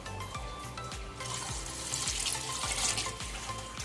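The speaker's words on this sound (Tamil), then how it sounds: "நம்ம இப்போ தண்ணி ஊற்றிக்கலாம்." Water is poured into the cooked masala for a Chennai-style chicken biryani. It makes a steady, close rushing splash over a low, bubbling pulse. No one speaks.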